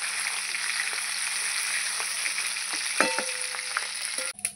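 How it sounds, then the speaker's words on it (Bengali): Fish pieces fry in a pan of hot oil, giving a steady near sizzle with occasional spatters and a couple of utensil taps toward the end. "আবার মাছ যে কটা আছে ওগুলো ভেজে নেব।"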